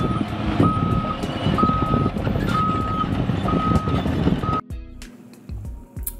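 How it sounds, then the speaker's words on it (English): Excavator backup alarm beeping in a steady series of evenly spaced electronic tones, loud and close over engine rumble, then stopping abruptly near the end. "You want to make sure that the equipment's horn works and that the backup alarm is functioning."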